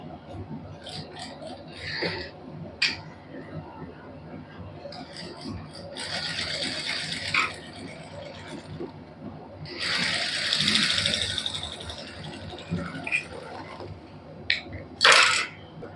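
A sewing machine stitches the cuff of a suit sleeve in short bursts of whirring, with quiet pauses, small mechanical clicks and handling noises between runs; there is no talk.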